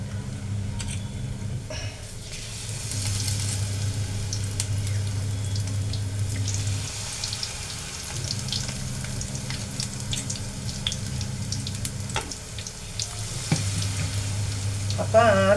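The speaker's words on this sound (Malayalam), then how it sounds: "നമുക്കിതിൽ നിന്ന് കുറച്ച് മുക്കി അതിനകത്തോട്ടൊന്ന് ഇട്ടെല്ലാം ഒന്ന് വറുത്ത് പോരാം" Battered pieces sizzle steadily in hot oil, a continuous crackling fry with a few soft clinks and stirring sounds, close and moderately loud with no talking.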